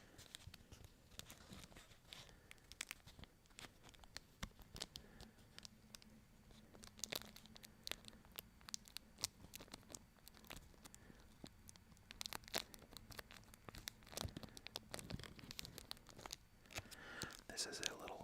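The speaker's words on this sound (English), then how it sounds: "I like the little crinkling on the packaging." Plastic packaging around a small syringe needle tip crinkles and crackles in close, quiet, irregular bursts during a soft-spoken ASMR session, with a low voice murmuring now and then between the rustles.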